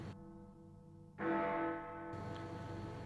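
A bell ringing with sustained metallic tones, two struck tones decaying over a few seconds, clear and moderately close.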